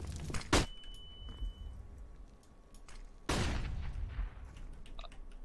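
Video game gunfire: two sharp, loud bursts of shots, one early and a longer one midway, each trailing into rumbling echo over a noisy background.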